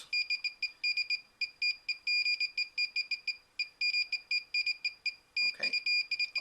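A Geiger counter held near a radioactive source gives rapid, uneven bursts of sharp electronic beeps, close and clear over near silence. A short dull knock sounds near the end.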